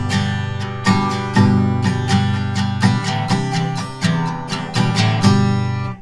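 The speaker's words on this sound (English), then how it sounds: "it actually has metal tines on it, a series of metal tines that go across the strings as you play" A guitar strummed with a Jellyfish pick whose metal tines sweep across the strings, giving a bright, swishy, twelve-string-like shimmer; repeated rhythmic strums ring loud and close with no talking.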